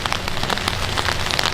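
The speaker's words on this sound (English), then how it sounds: "It is another rainy May Day" Steady rain pours down over an outdoor May Day rally in Manchester, New Hampshire, a loud, dense hiss of drops pattering on surfaces with no talk over it.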